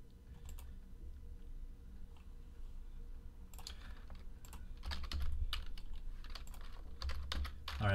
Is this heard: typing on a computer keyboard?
yes